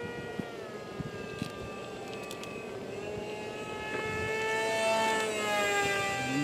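An RC plane inspired by the T-50 PAK-FA flying overhead, its electric motor holding a steady whine at a distance that swells louder toward the end.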